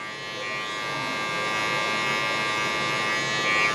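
Electric hair clippers fitted with a 1.5 guard, lever fully open, cutting coarse hair in a low taper, a close, steady buzzing hum that grows slightly louder as the blades work through the hair.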